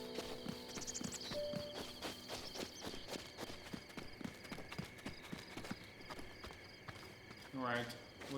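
Hooves of a man-horse boss creature in the video game Zelda Breath of the Wild, a run of clopping steps at a steady walking pace, fairly faint, with chimes and game ambience around them.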